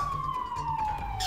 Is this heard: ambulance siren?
yes